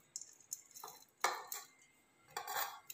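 Salt and grated coconut are worked into rice dough in a bowl, giving sparse, quiet scrapes and clinks of a spoon against the vessel in irregular bursts with soft pauses between, no talking.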